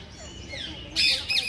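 Birds call in a zoo aviary, with a sharp, loud chirping burst standing out near the end over a busy background of faint bird sounds and crowd murmur.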